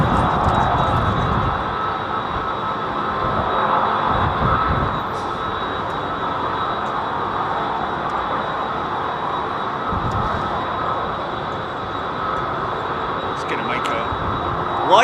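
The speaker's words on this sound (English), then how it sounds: "listen to those engines on that 767." A Boeing 767 with CF6 engines departing London Heathrow, a broad roaring jet rumble with a steady high whine, heard from a distance and holding level throughout, with people talking over it.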